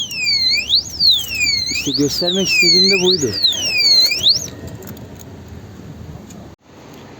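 A loud electronic alarm from an Onvo RX6 Plus electric scooter sweeps up and down in repeated warbling cycles, then stops; someone speaks over the end of it, close by.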